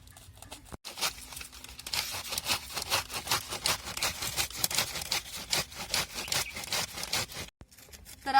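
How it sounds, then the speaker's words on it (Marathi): A whole cabbage rubbed against a grater for paratha, a long run of fast rhythmic rasping strokes, close and fairly loud, with a short pause near the start and the end. "आपण हा पूर्ण कोबी असं किसून घेणार आहे"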